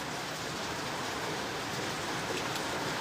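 Heavy rain pours in a dense, steady hiss that fills the whole stretch evenly, with no voices.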